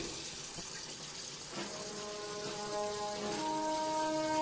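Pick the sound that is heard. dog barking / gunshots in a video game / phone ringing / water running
water running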